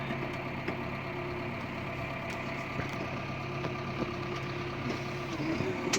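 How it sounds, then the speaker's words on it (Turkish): A Massey Ferguson 5S tractor engine idles and chugs steadily at close range while warming up, a low continuous rumble with small knocking ticks throughout. "şu an traktörle biraz yavaş yavaş gidelim ısınsın"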